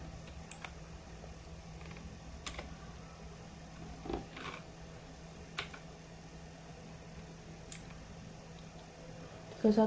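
Sparse keyboard typing while editing a text file in the Nano editor on a computer command line: scattered light key clicks and a few keystrokes at irregular intervals, faint and close.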